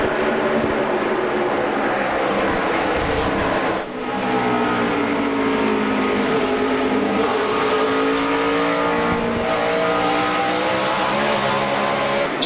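NASCAR stock cars at the 2007 Food City 500 roar past in a loud, sustained pack, engines droning and shifting pitch as they pass, with a brief dip before the noise builds again.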